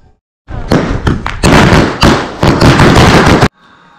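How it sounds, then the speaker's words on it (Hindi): Diwali firecrackers bursting at close range in a loud, rapid run of sharp cracks and thuds lasting about three seconds, then stopping abruptly. "फटाका छोड़ने में मजा आया तुमको?"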